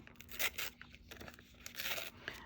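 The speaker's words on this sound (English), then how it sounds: "I am going to tear the right side of the cotton paper." Cotton paper torn by hand along its edge: a couple of short, close, fibrous ripping bursts with small crackles in between.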